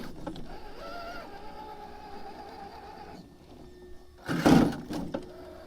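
An Axial SCX-6 RC crawler truck whines with a steady electric motor tone as it strains on a steep rock. A loud, sharp burst of clattering comes as the truck hops, followed by a smaller knock.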